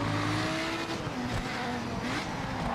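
Race cars driving in Project Motor Racing, engines droning steadily with tonal revving that rises and shifts, continuous and loud throughout with a hint of tire noise, no voices.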